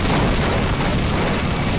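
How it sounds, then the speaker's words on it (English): Explosion from the video game Team Fortress Classic, a dense, crunchy, broadband blast filling a brief moment, loud and close with no talking. "I just love how crunchy the explosion sound effects are"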